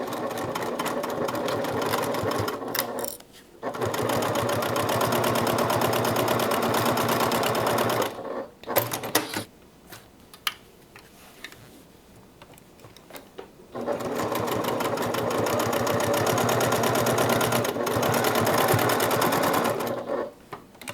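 A sewing machine stitches the sides of a fabric bag closed, running in long steady bursts of rapid mechanical whirring with a brief stop near the start and a longer pause in the middle, close and clear.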